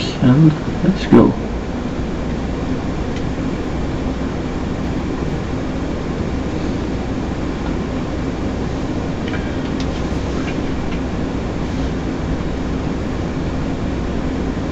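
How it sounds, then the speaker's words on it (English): A locomotive in the Derail Valley train game runs with a steady low rumbling drone and mechanical hum throughout, a few short clanks near the start, with someone talking over it. "Looks like it's trying to push the train, but can't get past some point."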